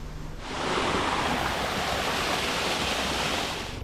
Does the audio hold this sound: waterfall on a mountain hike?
yes